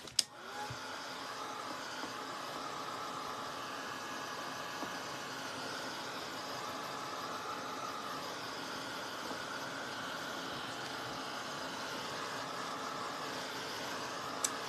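A hair dryer blows steadily on red paint on a canvas tote bag being painted with a sunflower, a continuous close whirring rush that holds an even level for the whole stretch with no talking.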